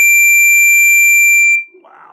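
A timer alarm sounds a loud, steady high-pitched electronic tone that holds for about a second and a half, then cuts off, leaving brief faint murmuring.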